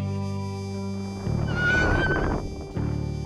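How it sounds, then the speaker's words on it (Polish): A semi-wild horse in Cedynia Landscape Park along the Oder gives a single drawn-out whinny that rises and falls, heard over a steady tonal background hum. "Zwróciliśmy na siebie uwagę pół dziko żyjących koni"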